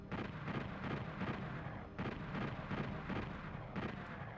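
Rapid gunfire in the classic shooter DooM, repeated blasts in quick succession, fairly faint and steady in level throughout.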